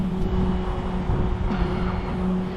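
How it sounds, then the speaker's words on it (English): Traffic rushes past at an intersection on 4th Street in a steady wash of road noise, with engines humming and a car sweeping by midway. "I'm hearing the cars go by me"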